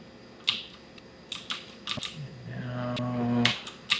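A computer keyboard's comma key pressed repeatedly, sharp close clicks scattered irregularly, some in quick pairs, over a faint hum with a tonal game sound rising partway through.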